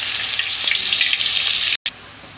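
Onion paste hitting hot oil in a pan, a bright sustained sizzle and fry that cuts out abruptly for a moment near the end, then resumes more softly.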